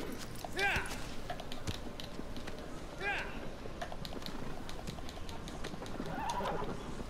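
A horse galloping in Shadow of the Colossus over rough paths: steady hoofbeats with a couple of whinnies and creaking tack over a continuous game ambience, with a voice faintly under it.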